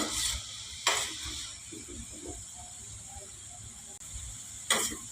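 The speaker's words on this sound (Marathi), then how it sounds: "आणि यामध्ये आता मी तळून घेतलेले चिप्स पुन्हा घालून घेते" Potato finger chips, already fried once, are dropped back into smoking-hot oil over a high flame and sizzle with a steady hiss, with a few louder splashes and stirring sounds near the start and end.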